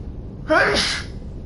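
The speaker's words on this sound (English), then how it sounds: "Uh-oh. Gonna sneeze." One close, sudden sneeze, a sharp breathy burst that trails off quickly against a low background hum.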